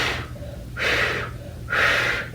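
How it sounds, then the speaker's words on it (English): Two forceful, breathy exhales during a yoga leg-hold exercise, each a second-long rushing push of air, close and clear with short quiet gaps between them. "let's exhale 3 times"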